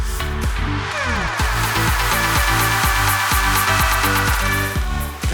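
A dense, loud electronic music loop with a pulsing beat runs through a VirtualDJ echo pad effect, its repeating hits smeared and trailing into one another like echoing delays.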